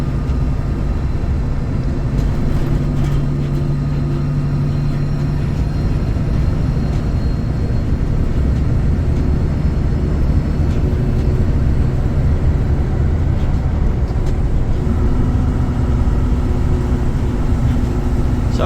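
A truck with an 18-speed Road Ranger gearbox hums along at a constant low drone, the engine note shifting slightly as it pulls after a split gear change, steady and continuous throughout.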